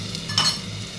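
Mango pieces stirred in a pan for a moment, a short scrape and faint sizzle with a light clink of a utensil, close and brief with no talking.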